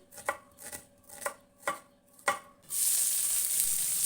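Urad dal fries in a pan while five evenly spaced knife chops on a board ring out nearby. Then a loud, dense, continuous sizzle takes over for the final second and a half.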